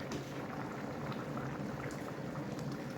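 Rice for Kabuli chana pulao boils in a pot, a steady bubbling, gurgling wash of liquid at moderate volume, close and continuous with no voices.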